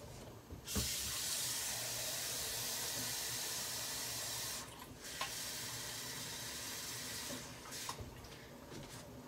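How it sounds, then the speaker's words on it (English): Water pours into a soup pot of chicken and lima beans, a broad steady rush that runs for several seconds, briefly dips, then resumes with small splashes and clinks, and no voices. "So I think I'm gonna add about 2 more cups of water."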